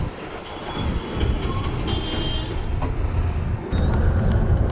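A travels bus drives along the road toward Mumbai at about 60, a steady loud engine drone and road rumble heard from the seat behind the driver, with a brief hiss near the end.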